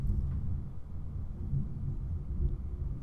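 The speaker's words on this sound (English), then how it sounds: "There's a lot of thunder in the background" Low thunder rolls on and off during a rainy thunderstorm, a faint continuous rumble in the background with gentle swells, no voices over it.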